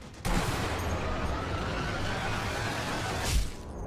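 Gunfire in the shooter game Sniper Elite V2: a loud, dense burst of rapid shots and roaring blasts that starts abruptly and runs on for several seconds, close and continuous.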